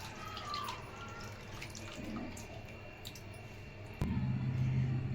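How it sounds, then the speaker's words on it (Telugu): Buttermilk pours into a pot for an amaranth buttermilk curry, heard as a faint liquid trickle and splash. The sound thickens into a fuller, louder pour over the last second. "ఇప్పుడు మజ్జిగ పోసుకుందాం."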